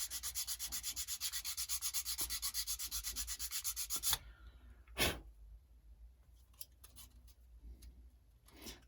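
Wrapped sandpaper rubbed back and forth on a plastic model rocket part, a steady rapid rasping rhythm for about four seconds, close and loud, then stopping, followed by a sharp knock and faint scattered handling sounds.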